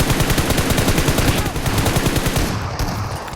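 Shotgun fire in the mobile game PUBG Mobile, a loud, close, rapid run of repeated blasts that continues almost without pause before easing slightly near the end.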